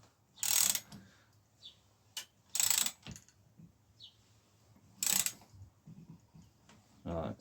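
Ratchet wrench with an 8mm socket tightening new bolts on a Trek 930 Singletrack mountain bike frame, giving three loud bursts of rapid clicking separated by quieter pauses, close up with no talk.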